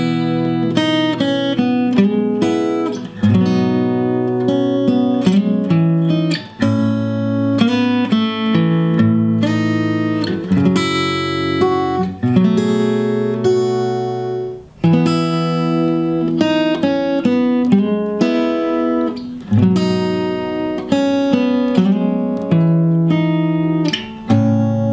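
An acoustic guitar strums a steady chord pattern with a picked melody on top, playing the intro of a song, loud and close, repeating in clear phrases without any talking.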